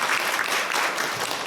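A church congregation at a Korean Sunday worship service claps together in warm, dense applause that stays steady and close throughout.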